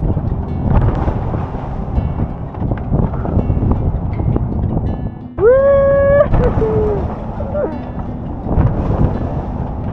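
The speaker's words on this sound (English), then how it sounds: "the wind is only like 15 knots, but our apparent wind is about 22" Wind blowing over a sailboat's foredeck in about 15 knots of true wind and about 22 knots apparent, a steady close roar of buffeting gusts, with a brief rising whine partway through.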